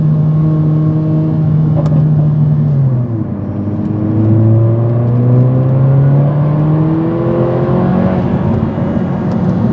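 Mercedes-AMG A45 4MATIC+ hatchback with a 265 kW engine, heard loud and close from inside as it accelerates hard, the engine note climbing through gears with a brief dip at a shift, steady droning throughout.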